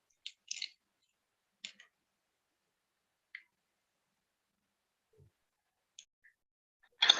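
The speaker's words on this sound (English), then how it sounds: "kitchen scissors की help से उनको कट कर दीजिए" Kitchen scissors snipping piped churro dough: a handful of sharp, isolated clicks and snips, spaced seconds apart in near silence, close and fairly quiet.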